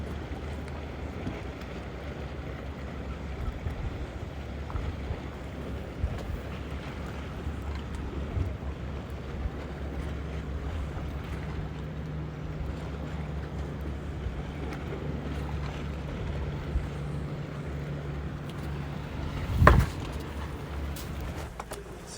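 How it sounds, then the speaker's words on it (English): A sailboat tacking out of A Coruña harbour in the wind, with steady rushing wind buffeting the microphone over a low hull and water wash, and one sharp knock near the end. "We are tacking our way out of A Coruña, and you can see we just might make it on this tack."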